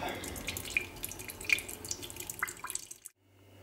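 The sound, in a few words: coconut water draining out of opened coconut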